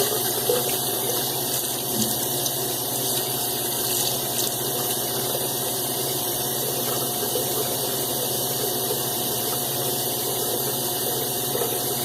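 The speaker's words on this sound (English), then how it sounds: "Let me wet my head." Steady running water, likely from a tap, used to wet a head before a soap head shave, a continuous even rushing stream heard up close with no voices over it.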